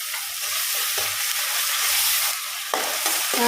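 Onions frying with a half spoon of homemade ginger-garlic paste for a chapati gravy, a loud continuous sizzle close by, with a few sharp utensil knocks and stirring scrapes near the end.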